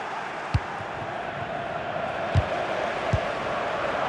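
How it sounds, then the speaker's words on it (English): A stadium crowd at a Champions League football match keeps up a steady, dense roar that fills the background, with a few faint thumps over the continuous wash of noise. "The crowd certainly think so. Just listen to them."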